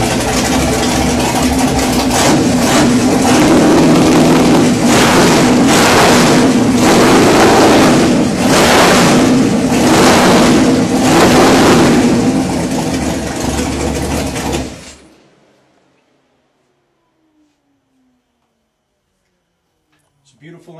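A racing engine starts and runs loudly and steadily for about fifteen seconds with pulsing revs, then cuts off abruptly into silence.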